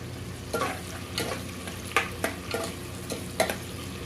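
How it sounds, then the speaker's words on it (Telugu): Tomatoes cook in a pan for paneer pulao, giving a continuous soft sizzle with repeated spoon-against-pan scrapes and taps roughly every half second to second. "ఒక కప్పు టమాటా, టమాటా మంచిగా ఉడకనియాలి కాసేపు"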